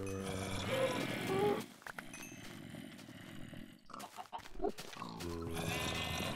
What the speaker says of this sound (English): Oh, not my pigs,